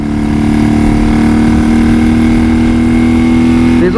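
A 1979 BMW R100S motorcycle engine revs hard past 5,000 RPM, a loud, steady, close droning note that holds high throughout with a slight shift near the end.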